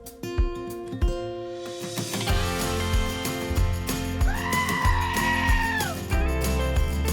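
A sheep bleats in one long, wavering call partway through, heard over steady background music with a thumping beat.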